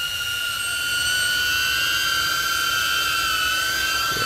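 Drone motors whine steadily as the drone comes in to land, a close, constant high-pitched hum with several layered tones over a low rumble and no talking.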